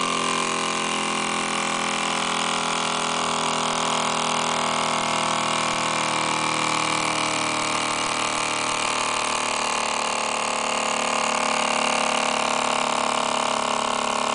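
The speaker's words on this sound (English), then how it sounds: "Start our engine again, and we're back to full brightness." A small engine heated by a very small burner runs steadily and unbroken, a close, loud, even hum with no talking.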